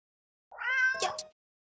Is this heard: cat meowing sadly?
yes